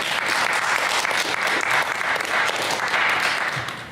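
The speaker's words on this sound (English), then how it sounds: "So everybody clap it up for Will." A community talk audience breaks into steady, full-room clapping for a presenter, a dense wash of hands lasting throughout with no speech over it.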